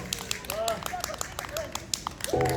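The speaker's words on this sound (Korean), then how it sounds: "박수 한번 주세요." A small street crowd in Hanam claps for a guitar busker, scattered hand claps tapping irregularly over a couple of seconds, with voices calling out between them.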